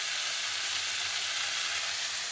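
Spice paste with chili powder, turmeric and ground mustard frying for a cauliflower and potato curry, giving a loud, steady, close sizzle that carries on without a break.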